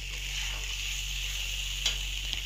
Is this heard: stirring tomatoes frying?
yes